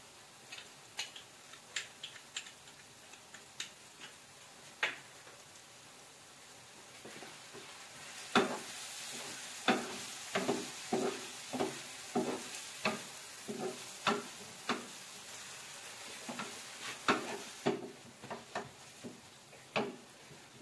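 Tomatoes and chopped green chilli cook in a pan over a low, steady sizzle, broken by regular sharp clicks and taps of a utensil stirring against the pan, fairly close and without talk.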